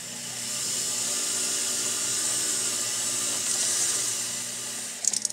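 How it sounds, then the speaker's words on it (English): A small bench polishing wheel spins at a desk, giving a steady high whine with a broad hiss that holds evenly throughout, ending in a few short clatters. "I am going to polish with my wheel at my desk here."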